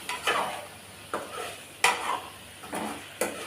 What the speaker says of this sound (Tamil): இது எண்ணெயிலே நல்லா நம்ம வதக்கி விட்டுக்கலாம்